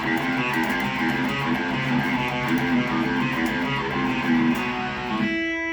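A loud distorted electric guitar churns through a fast riff without palm muting, with open, ringing chords, ending on a sustained chord that fades out.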